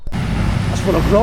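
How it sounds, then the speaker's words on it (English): Steady road traffic rumbles loud and close near houses in a historic Derbyshire village, a continuous low roar of passing vehicles while someone talks over it. "Sorry about the traffic noise"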